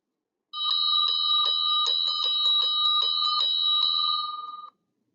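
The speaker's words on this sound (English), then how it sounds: "The school bell is ringing." An electric school bell rings loudly and continuously for about four seconds with a rapid metallic rattle, then stops abruptly into silence.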